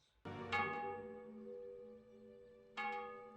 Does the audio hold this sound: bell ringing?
yes